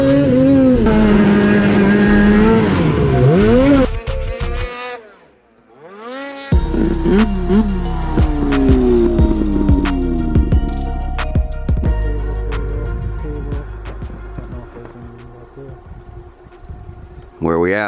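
A 600R snowmobile rides a local trail, its engine droning loud and close with rising and falling revs, a brief dip in the middle before it surges back under throttle, with a person talking over the motor.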